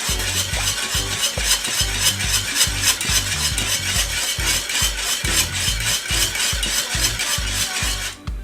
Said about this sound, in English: Just keep whisking it like this